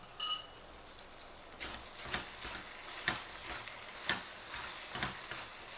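A spatula works through a vegetable filling with chilli flakes in a pan, giving soft scraping strokes and light clinks about once a second after a brief sharp knock at the start.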